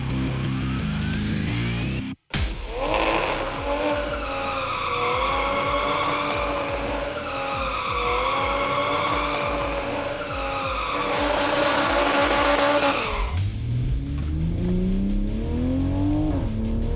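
Toyota MkV Supra on Mickey Thompson drag radials at a track, its engine revving hard with rising and falling pitch over loud, sustained tire squeal, a brief dropout early on, then the car accelerating away.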